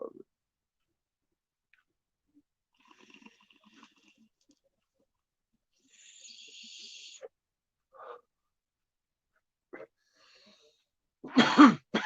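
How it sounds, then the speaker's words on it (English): Mostly quiet, then a few faint scattered noises and a short, breathy cough into a pillow near the end, muffled and close. "Arbitrary pillow cough."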